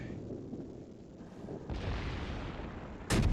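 Heavy naval guns of the battleship Missouri boom in a naval video game, a rumbling low roar building midway and ending in a sudden loud close blast.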